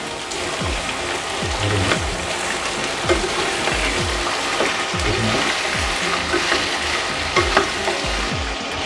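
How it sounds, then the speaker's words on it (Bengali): Peanuts roast with a spoonful of salt in a pan, crackling and sizzling loudly and continuously while a spoon scrapes through them in repeated, rhythmic strokes. "এবার একটু নেড়ে দেব।"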